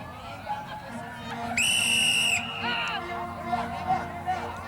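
Referee's whistle at the start of an Army versus Navy sports game, one sharp shrill blast lasting under a second, heard over crowd noise and a public-address voice.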